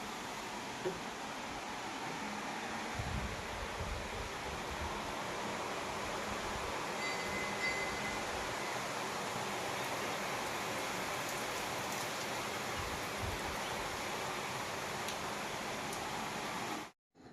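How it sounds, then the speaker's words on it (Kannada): Steady rain falls continuously, a dense, even hiss of drops on surfaces heard from indoors at a house, constant throughout and cutting off abruptly at the very end, with no voices. "ಮಳೆ ಬಂದ ಬಿಡ್ತು"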